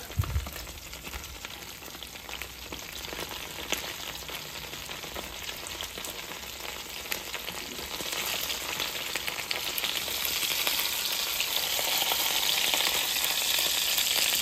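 An omelette sizzles steadily in a hot pan, the frying growing slightly louder and denser toward the end as it is turned, with no talking over it.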